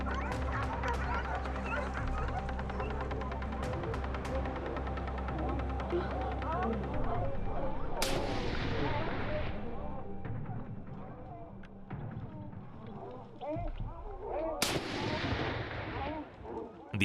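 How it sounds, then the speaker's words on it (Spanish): Two sharp, loud gunshots at a running wild boar during a driven hunt in La Ropera ring out several seconds apart over a steady low rumble and outdoor background noise, each followed by a brief fading echo. "Disparos traseros."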